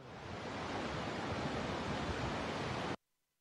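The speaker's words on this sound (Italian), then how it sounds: "Il fiume Biferno ha rotto gli argini e travolge tutto quello che incontra lungo la sua corsa." The flooded Biferno river in Molise surges over its broken banks, a loud, dense and steady roar of rushing water that stops abruptly after about three seconds.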